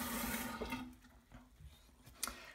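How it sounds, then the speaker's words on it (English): Water running and splashing as a face is rinsed at a sink, a soft close gush that fades into quieter trickles and small splashes, heard on its own without talk. "I'm gonna rinse my face off real quick."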